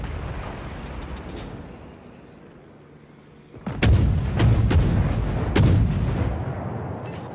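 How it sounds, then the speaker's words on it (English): A Japanese cruiser, the Miyoko, fires its naval guns in World of Warships: a sharp salvo of deep booming shots erupts after a quieter engine rumble, with several heavy reports in quick succession, loud and close. "Uh-oh, Miyoko's firing on me."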